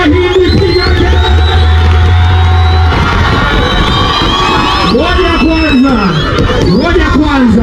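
A large crowd at a stage performance shouts, whoops and cheers loudly and continuously, with a loud voice calling out over the dense, sustained roar of the audience.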